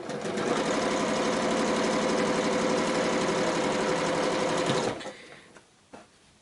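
A sewing machine runs steadily while chain piecing quilt blocks, a continuous fast mechanical whir with dense stitching rhythm for about five seconds, then stops abruptly, leaving faint handling clicks.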